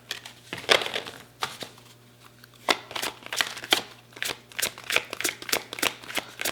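Tarot cards are shuffled by hand in repeated crisp, papery bursts, close and fairly loud, with short pauses between runs and no talking.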